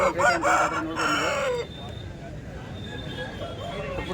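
A rooster crows loudly at the start, followed by quieter clucking and a busy background murmur, with people talking nearby at a native-breed chicken market in Kundarapalli.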